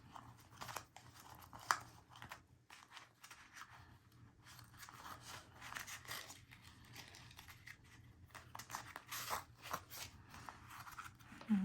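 Scissors snipping through jute twine for a boho baby card front, repeated close crisp cuts with a metallic click, steady irregular rhythm and no talking.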